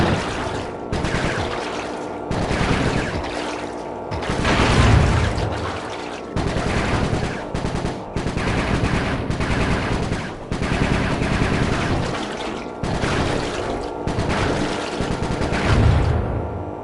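Repeated bursts of loud, close gunfire and machine-gun fire in the video game Sly 3: Honor Among Thieves, in sustained volleys with brief pauses between them, with no talking.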